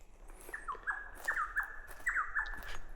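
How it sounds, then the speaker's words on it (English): Small birds in a Tasmanian forest give a string of quick, whistled chirps and descending call notes, repeated about every half second and moderately close, over a quiet background with a few fainter calls further off. "You can hear the birds."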